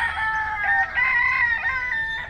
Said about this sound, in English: They captured every wild rooster and put them in one spot. It's nothing but roosters in there.